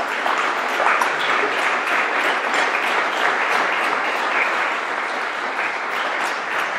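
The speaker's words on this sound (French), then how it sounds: "Je pense qu'on peut chaleureusement l'applaudir." Sustained, steady applause from a conference audience, dense clapping filling the whole stretch at an even loudness with no voices standing out.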